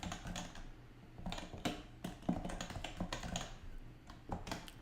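Fingers type on a computer keyboard while a simple webpage is coded, a fast, uneven run of close key clicks and taps lasting throughout, with no talking.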